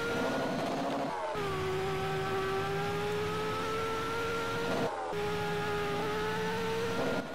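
A car in the Roblox game Drag Project Future accelerates, its engine whine climbing steadily in pitch, dropping at two gear shifts and climbing again, loud and continuous with no talking.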